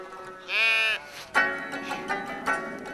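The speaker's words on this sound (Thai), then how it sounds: "แกะสายพันธุ์คารากุล เป็นที่นิยมเลี้ยงกันมาก" Karakul sheep bleat on semi-desert grassland in Afghanistan: one long, wavering bleat, then several shorter overlapping calls from a flock, fairly close and clear.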